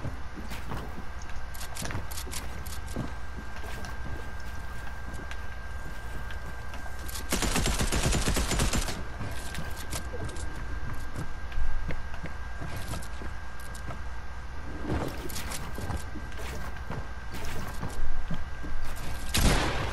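Rapid bursts of gunfire crackle through a Fortnite creative wall-wars match, with a dense sustained volley in the middle and scattered sharp shots around it, alongside a sniper rifle grabbed by mistake instead of a shotgun.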